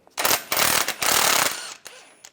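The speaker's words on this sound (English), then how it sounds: "We're going to take this nut off, use an 18mm socket." A ratchet fitted with an 18mm socket loosens a suspension nut on a Jeep Wrangler, producing three close, loud bursts of rapid clicking followed by a few brief ticks.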